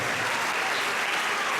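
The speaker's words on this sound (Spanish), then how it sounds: "Denle un aplauso al Señor." Church congregation applauding during a Holy Communion service, a dense and even burst of clapping from many hands. It is brief and moderately loud, with no distinct speech.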